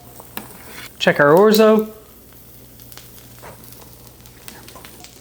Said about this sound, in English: You can hear the sizzle coming off that grill pan.